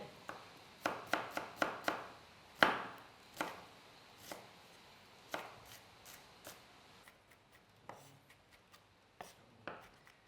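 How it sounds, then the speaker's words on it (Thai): A knife chops garlic into small cubes on a cutting board for a simple dorm-style curry, with crisp, irregular taps that come quickly at first and then slow and soften. "หั่นเป็นเต๋าเล็ก ๆ"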